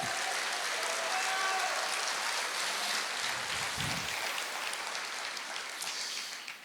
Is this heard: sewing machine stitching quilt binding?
no